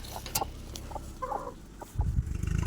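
A hen clucks in short bursts close by, followed by a low rustling thump near the end.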